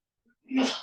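A single quick sneeze, a sharp burst after a brief inhale, close to the microphone.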